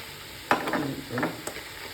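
Giant mushrooms frying in a pan, a quiet sizzle with a few sharp stirring clatters and scrapes of the utensil against the pan.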